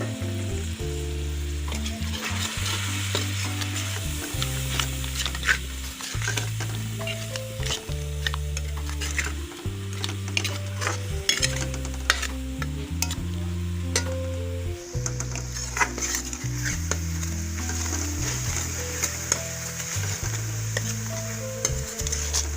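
Tomato paste and spice masala frying in a pan for aloo matar curry, a constant loud sizzle broken by repeated scraping, knocking stirs of a spoon against the pan at an irregular rhythm.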